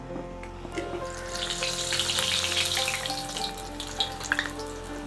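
Rasagulla balls frying in a generous amount of hot oil, giving a steady, close bubbling sizzle that runs throughout with no talking.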